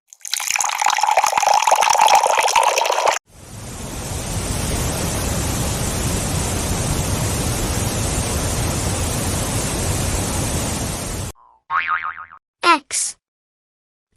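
Steady rushing water, like a running tap or stream, fills about eight seconds at a loud, even level, preceded by a brighter noisy burst and followed by short springy boing sounds.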